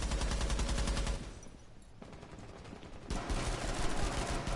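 Rapid automatic gunfire in the video game Rainbow Six Siege: dense, loud bursts of shots, a short lull, then another sustained volley.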